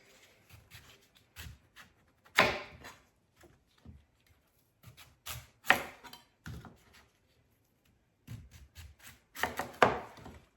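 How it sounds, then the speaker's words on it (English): A knife paring thick skin off pumpkin pieces: close, scraping and rasping strokes come in short bursts with quiet gaps between, and occasional soft knocks against a board. "take my knife and I take like the first layer off, and then I turn it around and I peel"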